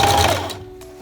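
A sewing machine runs a zigzag stitch along a fabric edge in a brief, close burst of rapid mechanical whirring that quickly winds down to a faint hum.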